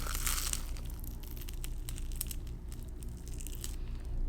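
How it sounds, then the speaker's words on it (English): A flaky croissant is broken open by hand, giving close, crackly crunches and light tearing flakes in a quiet room over about four seconds, with no talking. "Look at that flaky cake, and you can hear that crunch."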